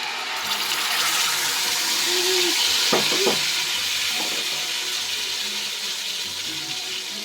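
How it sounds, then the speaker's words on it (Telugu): A ground paste of cumin, poppy seeds, coriander seeds and garlic fries in a pan with a steady, bright sizzle, stirred a few times with brief scraping clinks, close and continuous. "ఇది బాగా వేగాలి"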